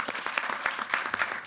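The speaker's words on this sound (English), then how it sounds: "give a big round of applause to Aer Lingus who have stepped in this early stage" Audience applause at a Belfast Classic announcement event, a fairly sparse patter of individual hand claps at moderate distance, uneven in rhythm and fairly quiet.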